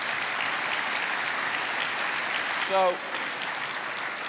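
A church congregation clapping at a commemoration service, a steady dense roar of hands from a large crowd, with a single spoken word rising briefly over it.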